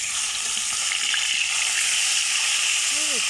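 Fish fries in a pan over a fire fed by dried cow-dung cakes, giving a steady, close, hissing sizzle throughout, with a brief faint whistle-like tone near the end.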